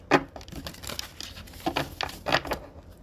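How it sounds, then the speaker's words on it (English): A deck of tarot cards is shuffled by hand, giving soft papery riffles and flicks in a few separate bursts, close and fairly quiet, with no voices. "let's just give this one more shuffle here. Let's see, let's just split the deck."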